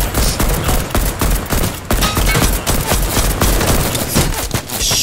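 Rapid bursts of automatic gunfire from the Fortnite Battle Royale video game crackle loudly and almost without pause, dense repeated shots dominating throughout.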